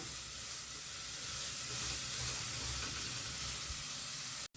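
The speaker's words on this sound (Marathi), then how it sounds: "आता तेलामध्ये आपण ह्याला व्यवस्थित असं छान फ्राय करून घेऊया आणि कांदा थोडा सॉफ्ट करून घेऊया" Chopped onion fries in hot oil for boiled-egg bhurji, giving a steady, even sizzling hiss that holds at a moderate level throughout and cuts off abruptly at the end, with no one talking.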